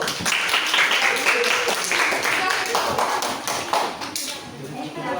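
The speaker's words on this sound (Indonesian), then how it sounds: "Tepuk tangan dulu kelompok satu." Classroom applause for the first student group after their presentation, a burst of many hands clapping at close range, fairly loud and steady, mixed with some shuffling and voices.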